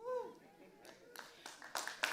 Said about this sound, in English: I know y'all not just clapping like that